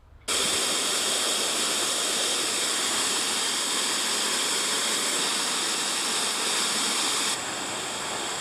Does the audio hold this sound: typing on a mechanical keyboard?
no